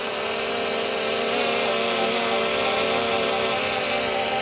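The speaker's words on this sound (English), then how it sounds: "the Mini 5 Pro sounds louder than the Mini 4" A Mini 5 Pro drone flies just after takeoff, its propellers giving a loud, steady, high-pitched whine and buzz that holds without a break for the whole stretch.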